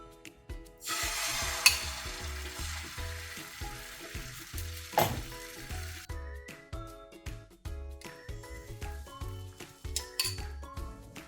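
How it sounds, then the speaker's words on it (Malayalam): Steady sizzle of egg frying in an oiled pan with frequent clinks and scrapes of a utensil against metal, no voices. "ഇനി മുട്ട ഒഴിക്കാം."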